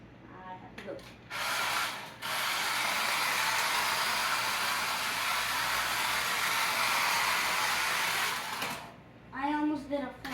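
An RC drift car slides and spins, giving a loud, steady broadband hiss and whir that lasts about seven seconds, with a voice talking briefly before and after.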